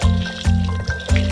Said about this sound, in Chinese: 下薯片，小火炸到变脆变硬。